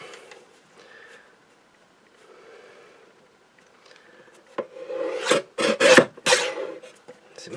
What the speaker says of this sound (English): I'm just going to get my guillotine, because it's just going to make it that bit easier for me to trim